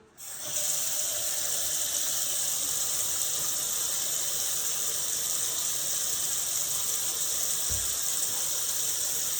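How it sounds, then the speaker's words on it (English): A tap runs steadily and loudly, a constant hissing rush of water that starts abruptly and continues unbroken, with a brief low thump near the end. "I'm going to cut the water on. It may be a little bit loud,"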